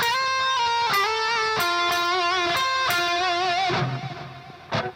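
A distorted lead electric guitar solo, with bent and vibrato notes, sustained and bright, a short melodic run played fairly loud with no voices.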